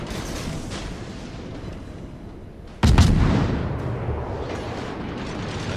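Warship main guns fire in the World of Warships naval battle game, one sudden loud booming blast that rolls and decays over a few seconds above a steady background rumble.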